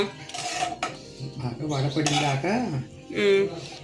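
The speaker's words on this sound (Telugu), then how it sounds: "అదైతే నూనెలో మగ్గిస్తున్నానండి ఒకసారి నిదానంగా కలుపుకుంటూ ఉండాలి" Gongura leaves softening in oil in a pan are slowly stirred, producing soft metallic scraping and clinks of a utensil against the pan, with a voice talking over much of it.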